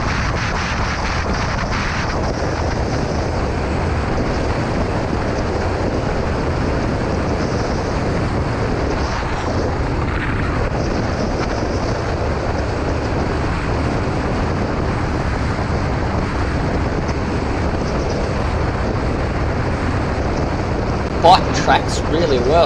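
A 2018 Royal Enfield Classic 500 single-cylinder motorcycle cruises steadily at 110, its engine drone blended with heavy wind rush, loud and constant throughout.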